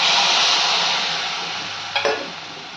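Spinach greens hit a hot pan of besan mixture, a strong hissing sizzle that slowly fades, followed by a short pair of scraping stirs near the end.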